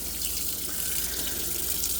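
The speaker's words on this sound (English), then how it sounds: "now we just got to get all the ice rinsed off of this basket so I can put this other basket in" Hot tap water runs steadily over a freezer basket to rinse off built-up ice from a leaking fridge, a continuous close hiss and splash with no pauses and no talking.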